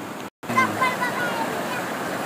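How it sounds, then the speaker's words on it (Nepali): Tawa Khola, a clear mountain stream, rushes in a steady broadband wash close by after a brief silent gap, with a person talking over the flowing water. "यो यताबाट आउने बडहरे खोला।"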